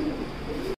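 A fancy blue barless Lahori pigeon gives a brief, low, soft coo that lasts under a second and is heard alone at close range.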